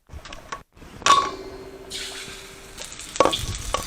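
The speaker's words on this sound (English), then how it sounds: "we're going to fry in batches. Swirl that oil around. It's good and hot." Chicken pieces frying in batches in a pan of hot oil, with a burst of sizzling as they go in, a lighter hiss after it, and sharp metallic clinks of pan and utensils, close by.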